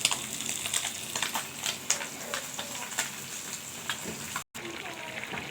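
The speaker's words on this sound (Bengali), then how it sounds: "মাছ দিয়ে রান্না করতেছি।" Fish cooking in a pan with stalks, coriander leaves and green chillies, giving a steady broadband sizzle with small crackles and pops throughout, close and moderately loud, briefly cutting out near the end.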